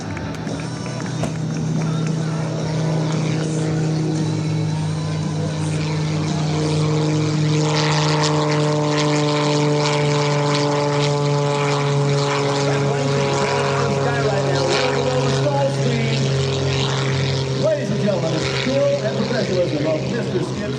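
Skip Stewart's aerobatic airplane makes a low pass at the 2025 Wings Over South Texas Air Show, a loud propeller engine drone that rises and sweeps past with shifting pitch, while an announcer talks over the loudspeakers.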